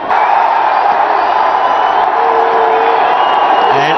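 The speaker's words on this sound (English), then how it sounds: "The huge roar from the crowd at the Arun Jaitley Stadium in New Delhi" Huge crowd roar at Arun Jaitley Stadium in New Delhi as Virat Kohli walks out for a Ranji Trophy match against Railways: a loud, sustained wall of cheering and whooping from a packed stadium, steady throughout with no break.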